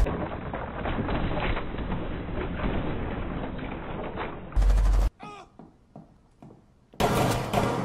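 Pistol gunfire in the video game Rainbow Six, loud dense shooting and game noise that runs for several seconds, then a sharp burst and a few scattered hits and calls before a second loud burst.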